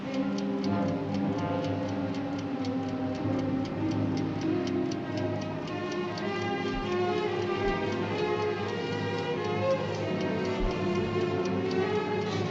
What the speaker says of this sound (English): You started the time fuse.